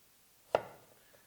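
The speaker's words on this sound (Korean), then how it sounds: "이 상태에서 얘를 최대한 얇게 썰어 주시는 게 좋고요" A single crisp knife chop through kabocha squash on a cutting board as it is sliced thin, one sharp close knock followed by a short fading tail, with no talk.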